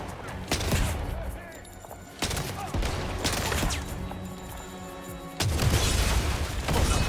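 Bursts of submachine gun fire and explosions in the action video game First Light, loud and sustained across the whole stretch, with booming impacts and heavy crashes breaking in, and no talk over it.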